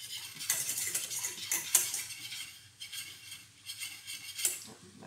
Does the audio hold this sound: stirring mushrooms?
yes